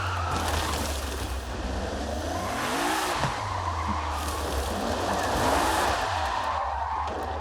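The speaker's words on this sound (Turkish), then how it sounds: "Şöyle direksiyon setiyle ufak bir gazlama yapalım." A car in the Forza Horizon 5 racing game, driven with a steering-wheel controller, revs its engine in rising and falling sweeps over a constant roar and tyre noise, loud and close without talk.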